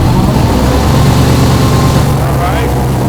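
A running engine idles at roughly 850 rpm with about 55 psi oil pressure, making a steady low rumble and broadband hum that stays even throughout, with faint voices in the background.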